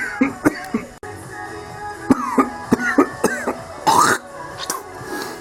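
Repeated coughs and throat clearing from a person breathing smoke, likely from a bad head gasket on a homemade side-by-side, coming in short bursts of several close, fairly loud hacks with brief pauses between them.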